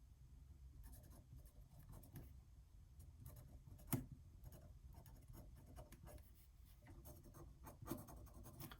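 Pen scratching across paper during a watercolor session, soft strokes and faint ticking scribbles in quiet, close and low in level, with occasional sharper taps, no talking.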